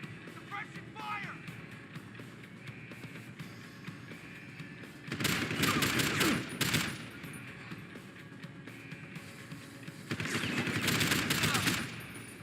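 Bursts of suppressing automatic gunfire in the shooter game Deus Ex: Human Revolution Director's Cut, two loud sustained volleys over a steady background of game ambience and combat noise.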